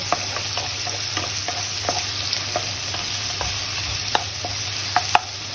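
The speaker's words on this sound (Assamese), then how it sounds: "এতিয়া পিঁয়াজ আৰু আদা নহৰু ভজা হৈ গ'ল।" Onion, ginger and garlic sizzling continuously in hot oil, punctuated by sharp metallic taps and scrapes of a spatula stirring the pan.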